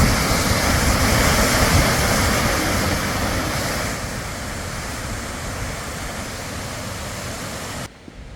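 Steady broadband rush of Whangarei Falls in New Zealand, a continuous roar of falling water heard from close by, loud and unbroken, easing slightly partway through before a brief dip at the end; no talking.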